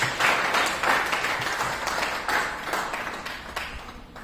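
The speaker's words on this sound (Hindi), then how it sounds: "जबरदस्त तालियां" Audience applause at a direct-selling (MLM) meeting in India, steady broadband clapping with surging swells, fairly close and continuous throughout without voices.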